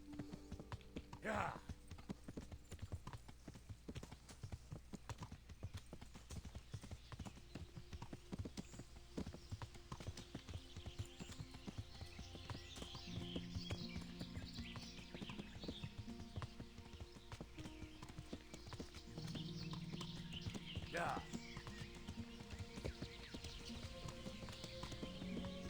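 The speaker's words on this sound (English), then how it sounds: "that's probably the horses from the archers" Horses of the archers clip-clop along in the game Kingdom Come: Deliverance, an irregular trot of hooves amid ambient battlefield noise, with someone talking over it at times.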